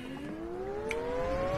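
A car engine revs up in a rising, smooth whine that climbs steadily in pitch, moderately quiet and alone with no voices.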